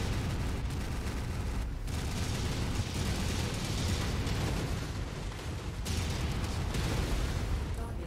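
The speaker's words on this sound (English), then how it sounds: "And then you hit him with the missiles." Missiles striking an enemy in the video game Feral Moon, a dense, continuous roar of explosions and booming impacts layered with gunfire, loud and sustained with brief dips throughout.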